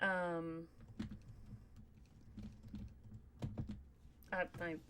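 Rapid clicking keystrokes on a computer keyboard, close and fairly clear, come in bursts with short pauses. A brief voice sounds at the start, and the tapping carries on under a low room hum.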